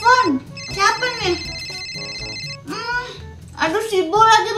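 A phone ringtone in the Avatar World game plays as a steady high electronic ring lasting a couple of seconds, with a voice talking over it before and after.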